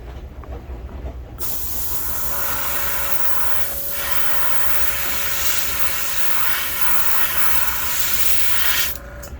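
Steady, loud hissing of a spray gun applying black paint to a vintage Wiggle Wart fishing lure for most of the stretch, starting and stopping abruptly, with a thin tonal whine underneath.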